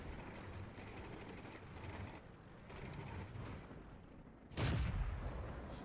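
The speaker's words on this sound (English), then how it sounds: "Now I'm shooting from behind the bushes" A tank cannon shot in World of Tanks, one sharp loud blast near the end over a steady rumbling engine and battle ambience.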